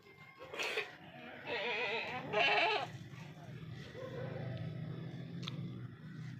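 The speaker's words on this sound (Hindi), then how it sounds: "ये देखिए सामने एक लाल बकरी खड़ी है" Several goats bleat on a goat farm, with a red goat among them, giving repeated wavering calls at close range in the first half before quieter farm background sounds take over.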